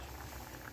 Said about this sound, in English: it is boiling away, which is a very good thing